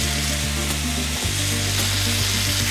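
Pasta aglio e olio is tossed with chopped parsley in a hot pan, giving a dense continuous sizzle with low hum and scattered scraping stir sounds, close and loud, no voices.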